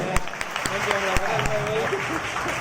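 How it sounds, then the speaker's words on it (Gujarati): Scattered hand claps ring out over a murmuring crowd at a community prize-distribution ceremony, a few sharp individual claps rather than sustained applause. "તાળીઓના ગણગણાટ સાથે"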